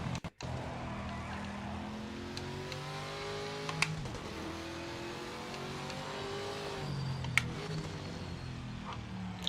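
Sustained NGT race car engine from the video game Project Motor Racing, droning steadily with rising and falling revs through gear changes, close and loud throughout with a brief dip near the start.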